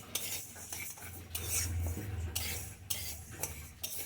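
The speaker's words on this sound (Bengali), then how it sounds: "এটা অনেকক্ষণ ধরে ভাজছি, দেখুন লাল লাল হয়ে গেছে" Utensil scraping and clinking against a pan as bottle gourd is stirred while frying, with a soft sizzle beneath repeated stirring strokes, close and fairly quiet.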